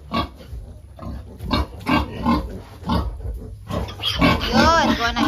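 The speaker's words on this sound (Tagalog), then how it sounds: "Kasi matatapang itong mga native pigs eh kapag ano." Native piglets squeal loudly in bursts as they are caught on a farm, the shrill cries rising into sustained high-pitched squeals toward the end, mixed with people talking and shouting nearby.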